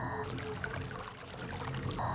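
Water in the Selenitic Age of the video game Myst makes a steady, soft, flowing and trickling wash that runs on alone at moderate level for the whole moment.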